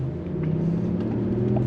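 A BMW i8 plug-in hybrid with a combustion engine and front electric motor drones with a steady, low, humming engine note, its sound partly shaped through the car's speakers, close and continuous without talk.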